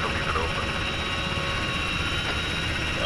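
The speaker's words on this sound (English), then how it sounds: "Look, I understand it's a big helicopter" Large helicopter flying in the Arma 3 military video game, a steady loud rotor and engine roar filling the whole stretch without letup.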